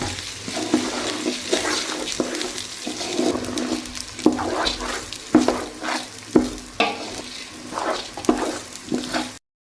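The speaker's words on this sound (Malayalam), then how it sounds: "അരി നല്ലവണ്ണം ഒന്ന് വറുത്തെടുക്കണം" Rice sizzles and scrapes in a hot pan as a spoon stirs it repeatedly while frying for chicken biryani, steady frying hiss with rhythmic stirring strokes up close.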